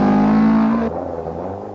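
A Datsun rally car at the 1982 Marlboro Rally in Nairobi, Kenya, a loud close engine roar that cuts off abruptly partway through, leaving a fainter rumble.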